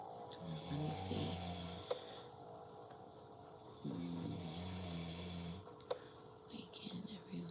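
A man snores in long, slow, breathy cycles with rasping inhales and exhales, heard near and fairly loud over soft background music, with faint voices in the room.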